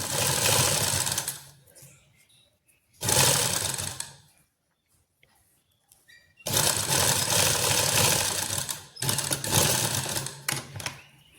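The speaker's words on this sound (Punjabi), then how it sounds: "ਇਦਾਂ ਆਪਾਂ ਨੇ ਸਲਾਈ ਲਾ ਲੈਣੀ ਜੀ" An electric sewing machine runs in several loud, close bursts of steady whirring stitching, separated by short pauses, while sewing the belt and pocket onto a salwar; no one speaks.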